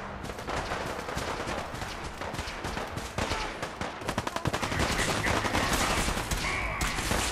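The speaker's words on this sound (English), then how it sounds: "I see a bunch of lasers." Laser gunfire during a Fallout 4 checkpoint defense, a dense, continuous barrage of rapid overlapping shots that swells louder toward the end, with heavy bursts throughout.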